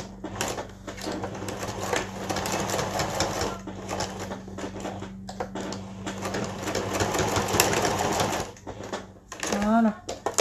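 Sewing machine running a topstitch along the edge of a child's kitchen apron, a steady mechanical whirr in bursts with short pauses, close by, under a voice talking.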